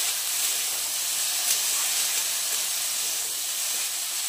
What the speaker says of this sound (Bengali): এবার একটু এটাকে ভাজা ভাজা করে নিই